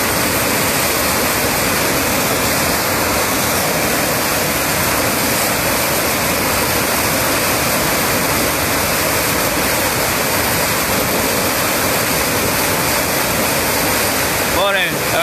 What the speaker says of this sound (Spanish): Mirá la fuerza del agua.